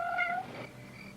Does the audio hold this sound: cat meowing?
yes